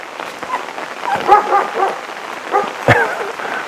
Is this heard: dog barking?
yes